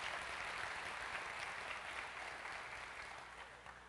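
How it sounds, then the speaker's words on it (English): A developer conference audience at a large technical session applauds, a continuous dense patter of many hands that holds steady and then fades slightly toward the end, heard from a distance in a big hall. "Again, with a round of applause."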